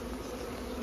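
A honey bee swarm in cold weather gives a dense, continuous buzz, close and steady, with no voices over it.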